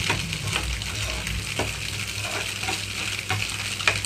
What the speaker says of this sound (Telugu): మీడియం ఫ్లేమ్లోకి టర్న్ చేసి ఎగ్ అంతా కూడా కొంచెం కదిలిస్తున్నాను